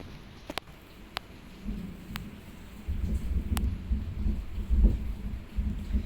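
Rain patters steadily in the background, a low soft wash that thickens halfway through, with a few sharp clicks near the start.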